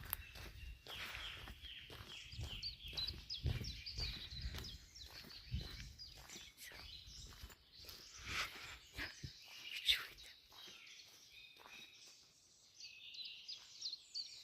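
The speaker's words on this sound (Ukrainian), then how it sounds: "Пташки." Faint birdsong chirps and twitters in the distance outdoors, heard under footsteps and rustling movement close by.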